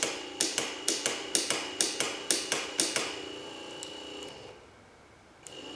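An old C10 wiper motor, pulled after 20 years in a junkyard, clicks steadily on the bench, about nine evenly spaced sharp ticks over a low electric hum, then winding down into quiet with one last faint tick.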